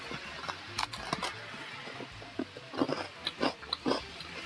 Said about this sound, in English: Sorry for the rustling, I'm having a double cream oreo